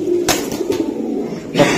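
Dobaj pigeon cooing in a few short, close calls separated by brief pauses, with no talk over them.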